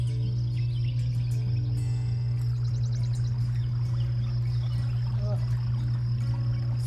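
Water rolled over fine gold concentrate in a processing setup, a soft continuous trickle and pour beneath a steady low mechanical hum, with faint small splashes.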